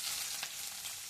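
Chopped onion goes into tempered oil in a pan, a close, steady, fairly faint sizzle with one brief sharper crackle.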